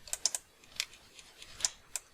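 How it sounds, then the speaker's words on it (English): Computer mouse clicking during 3D modelling work, a handful of sharp light clicks in an irregular pattern, close and fairly quiet. "I'm just clicking."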